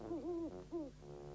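A cartoon owl hoots in a Smurfs animation, two tonal, wavering hoots followed by a third, close and clear against soft background music.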